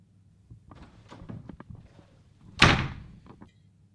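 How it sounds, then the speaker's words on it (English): A door is slammed once, a sharp loud bang that trails off briefly, after a run of quieter knocks and footsteps. "You really shouldn't slam that door, Ethan."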